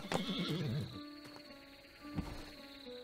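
A horse whinnies with a wavering, high neigh in the video game Tavern Manager Simulator, followed by quieter thuds and a soft electronic tone in the background.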